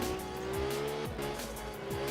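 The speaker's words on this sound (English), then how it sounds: "just driving this little car around" A small car drifting in the driving game Absolute Drift, a steady engine drone with sweeping pitch changes and a continuous tire squeal as it slides, with no talking.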